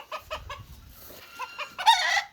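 Sussex hens clucking in short rhythmic bursts close by, followed by a rooster's loud crow near the end, in a small backyard poultry flock.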